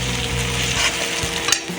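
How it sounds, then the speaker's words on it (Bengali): Masala with ginger-garlic paste fries and gets stirred in a pan, a continuous close sizzle with a brief scraping stir near the end. "দিয়ে ভালো করে মশলাটাকে কষিয়ে নেব"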